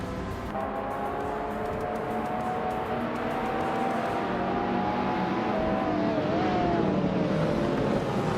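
A 1987 Ford Sierra RS500 Cosworth racing engine in a racing video game drones steadily and loudly throughout, its pitch climbing and dipping through gear changes, with no voices.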